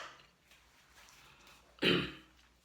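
A single close, loud throat-clearing cough from a man partway through, preceded by quiet breathing and faint low murmurs.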